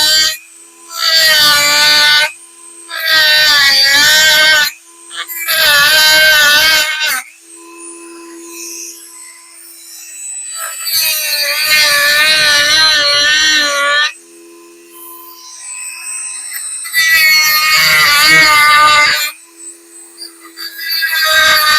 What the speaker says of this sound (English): Okay, so I got my holes drilled